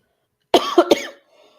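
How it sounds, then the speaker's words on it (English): A single short human hiccup-like vocal burst, close and abrupt, made of two or three quick throaty pulses that could pass for a cough, followed by near silence. "Hiccup."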